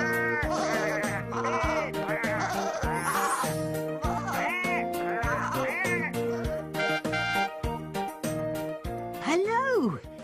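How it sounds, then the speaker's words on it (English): Several sheep in an animated children's sing-along story bleat loudly in wavering overlapping calls over a backdrop of cheerful music, one last bleat rising near the end. "But poor Daisy found the sheep a bit too loud."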